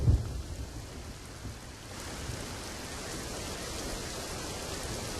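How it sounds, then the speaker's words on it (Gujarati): Heavy rain with a thunderstorm in Aravalli, Gujarat: a low thunder rumble at the start fades into a dense, steady hiss of downpour. No voices. "જ્યાં આગળ ભારે વરસાદ છે"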